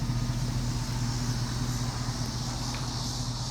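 A 2007 Chevrolet Avalanche engine idles steadily at a used car lot, a low even rumble with a constant hum, close and unchanging, with no speech over it.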